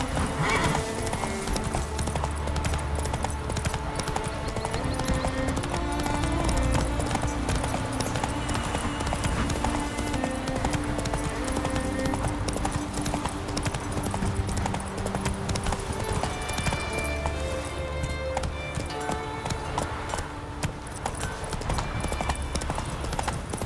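Horse hooves in The Witcher 3, out on Skellige, drum a steady, continuous clip-clop close up, with occasional whinnies, over a sustained musical backdrop that runs throughout.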